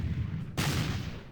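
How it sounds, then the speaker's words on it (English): An 18-pounder artillery gun fires in the Battle Academy WW1 game, a single sudden loud boom that cuts in and then trails into a rumbling decay, heard without talk. "We're going to bombard with our artillery."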